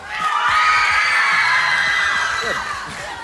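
A loud crowd of young voices cheers, shouts and whoops for a contestant in a bead-count contest. The cheering swells quickly, holds, then eases slightly toward the end.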